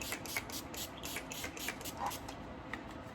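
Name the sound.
spraying Urban Decay De-Slick All Nighter hairspray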